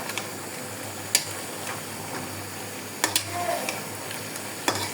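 Beef with beef masala stirring in a pan, a low steady sizzle running throughout with a few sharp clicks of a utensil scraping and tapping at intervals.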